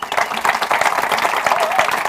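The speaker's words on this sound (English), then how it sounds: "Let's give her a round of applause." Audience applause after a presenter's demo at a broadcast media conference, a dense steady wash of many hands clapping at even loudness for about two seconds, with a faint voice underneath.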